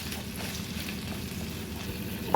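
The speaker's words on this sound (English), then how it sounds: "Now you just want to cook that for about a minute and keep stirring." Ginger and garlic frying in a pan while being stirred continuously, a soft, low sizzle with light bubbling heard close up and fairly quiet throughout.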